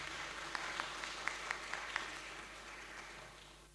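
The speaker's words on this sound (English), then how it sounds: "Please give her a round of applause." An audience at a school awards evening gives a round of applause, a faint, distant patter of many hands with a few crisper individual claps near the start, gradually tapering off.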